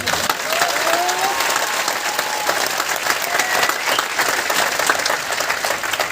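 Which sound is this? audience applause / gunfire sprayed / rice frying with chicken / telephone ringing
audience applause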